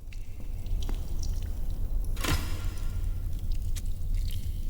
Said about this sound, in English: the drips right there stopped, so the water's no longer flowing